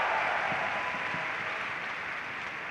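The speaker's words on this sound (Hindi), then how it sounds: "जिनके लिए एक बार जोरदार तालियां बजा दीजिए" An audience applauding at a business success testimony event: a dense, steady wash of clapping from many hands, moderately distant, fading slightly toward the end.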